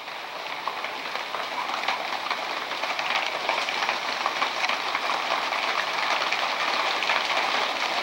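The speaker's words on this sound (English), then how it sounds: "It's trying to hail." Hail patters steadily outside an open garage door, a dense, even hiss that thickens slightly partway through. No voices are heard.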